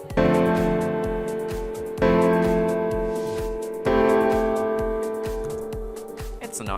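A chord progression is played back in FL Studio, with three sustained chords struck at even intervals over a steady beat of ticking hats and thumping kicks, clear and alone.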